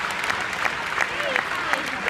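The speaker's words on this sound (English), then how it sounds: "One more time, for a big round of applause for my fantastic guests." Applause from a live audience at the Gadget Show Live event, a steady wash of clapping lasting about two seconds, fairly even in level, with some talk faintly mixed in.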